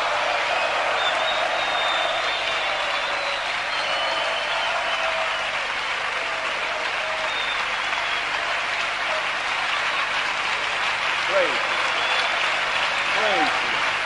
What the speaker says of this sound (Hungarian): Yes, give him a big clap.